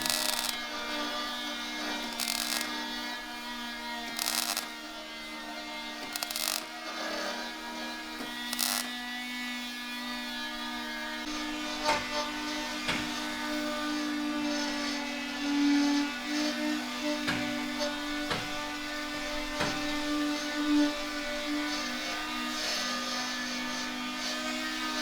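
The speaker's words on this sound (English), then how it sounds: "A general sanding of the vehicle was done to ensure proper adherence of the new coat of paint." A power sander works over a vehicle body being prepared for fresh paint as a BACA gate guard, outdoors on a warm summer day. Its steady motor drone carries on for the whole stretch, with intermittent scuffing bursts early on.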